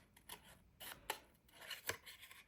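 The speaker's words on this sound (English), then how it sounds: "now I'm going to quickly fussy cut round this" Scissors snip in quick, irregular bursts while fussy cutting around a stamped card, a series of close, quiet crisp cuts with the paper rustling between strokes.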